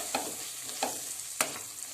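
Chili powder stirred into sizzling egg curry masala in a pan: three distinct scraping strokes of a spoon against the pan, close and clear, over a continuous soft frying sizzle.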